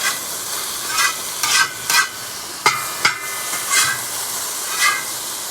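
Green beans sizzling in a hot cowboy wok as they are stir-fried, with a constant bright hiss broken by several sharp scrapes and tosses of the spatula, close and loud, with no talking.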